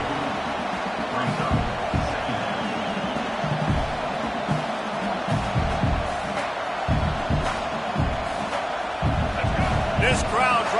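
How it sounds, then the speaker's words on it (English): A stadium crowd roars continuously in a college football video game with Oklahoma, a dense wash of cheering and shouting under steady play-by-play commentary. "This crowd trying to make life miserable for this offense."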